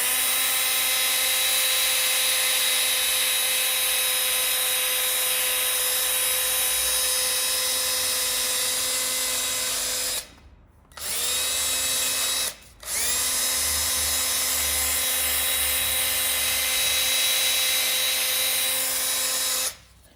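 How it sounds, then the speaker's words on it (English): A power drill with a nylon attachment scuffs the gasket surface of an Audi B8 A4 2.0T engine, a loud continuous whine that cuts out briefly twice before resuming. "I'm going to grab a drill with a nylon attachment."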